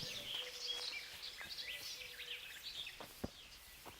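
Birds chirp and twitter in quick, high calls in the video game Kingdom Come: Deliverance, faint ambient birdsong with scattered clicks and no talk.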